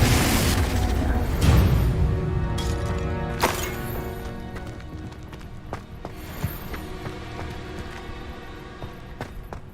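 A Confringo spell in Hogwarts Legacy bursts with a heavy explosive boom at the start that fades into a long rumbling decay. Sharp cracks and thuds follow amid tonal ringing, loud at first and then gradually quieter.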